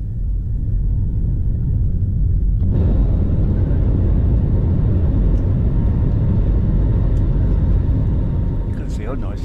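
An Air Malta Airbus A320 roars down the runway and climbs away from Malta, its loud, steady engine rumble swelling sharply a few seconds in and holding strong through the takeoff roll.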